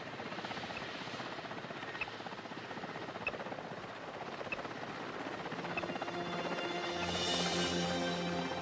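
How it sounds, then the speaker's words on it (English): A helicopter's rotor thumps steadily over snowy tiger habitat, growing louder toward the end as it draws nearer, with no voices. "The helicopter quickly searches the area"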